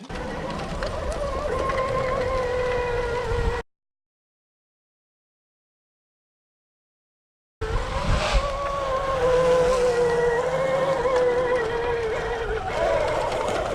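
An electric Honda CR motocross conversion pulls away gently and rides: a steady tonal electric motor whine with road rumble, broken by a few seconds of silence before the whine resumes and rises slightly.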